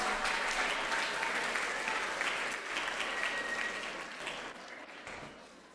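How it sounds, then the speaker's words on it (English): A school assembly audience gives sustained applause for Grade 7B outstanding scholars, a dense wash of many hands clapping together that slowly fades toward the end. "Let's give a big round of applause to all of our 7B Outstanding Scholars"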